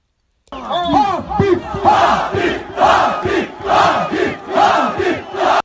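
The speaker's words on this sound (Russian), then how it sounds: "огромная толпа скандировала «Хабиб»" A huge crowd at the central stadium in Dushanbe chants the name Khabib in rhythmic, repeated bursts, roughly one per second, loud and echoing across the open space after a sudden start.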